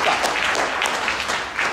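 Steady crowd applause at a TANESCO electricity utility gathering in Iringa, honouring the emergency repair crew. The clapping is loud and dense, with a slight dip before swelling again briefly.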